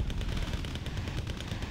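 Artillery fire in a real-time strategy game tournament match: a dense, continuous roar of rumbling booms and blasts, loud and sustained throughout with no distinct pauses.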